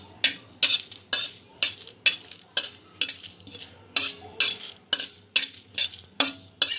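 Spices dry-roasting in a pan for raw mango and date chutney, stirred with a utensil in a steady rhythm of about two scrapes per second, each a sharp clinking scrape against the metal, close and clear with no talking.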